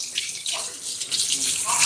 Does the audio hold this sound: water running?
yes